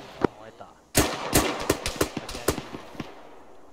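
Gunfire from a military vehicle in the ArmA military shooter game, a faint shot followed by a run of loud, sharp bursts in an uneven rhythm, each ending in a short echoing tail, with no talking over it.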